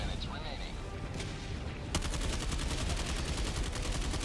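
Assault rifle fire against bots in Helldivers 2, a sustained rapid burst of evenly spaced shots that starts suddenly near the middle and keeps up steadily to the end over a busy game background.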